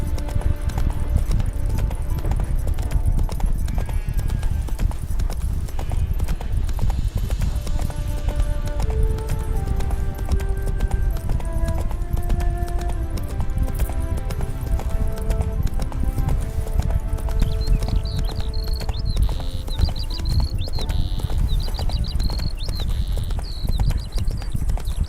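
Hooves of Roach, Geralt's horse in The Witcher video game, clip-clop in a steady trotting rhythm, close and continuous, with faint background music tones and a brief whinny-like sound near the end.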